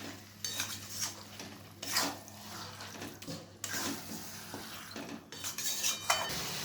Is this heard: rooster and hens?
no